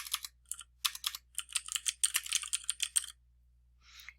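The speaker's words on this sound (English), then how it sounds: "This is the search bar, and I'm going to type cover letter." Rapid keystrokes on a computer keyboard, close and clear, come in uneven bursts of clicks for about three seconds, then stop, followed by a brief faint rustle.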